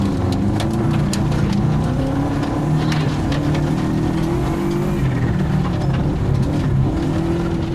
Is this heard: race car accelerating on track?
yes